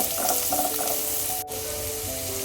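Strips of carrot and capsicum, with cabbage, sauté in a pan for chicken and vegetable pasta: a continuous bright hiss with a brief dip midway and faint tonal sounds running underneath.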